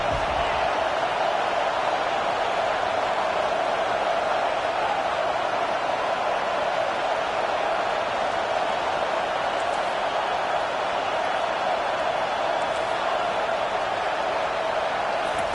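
A stadium crowd in the NCAA 25 college football video game roars as a steady, dense wall of cheering across the whole stretch, with commentary voices talking over it.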